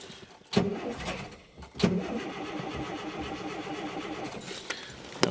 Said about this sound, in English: so cold, I'll start with some choke and see how it goes